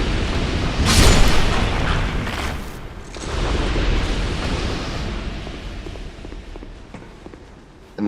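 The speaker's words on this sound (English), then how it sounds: "the lizard statue is going to shoot fireballs and take out the enemies for us" Fireballs launched by a lizard statue and their explosions in a video game: a loud booming burst early on, a second blast about two seconds later, then rumbling and scattered footstep-like thuds fading toward the end.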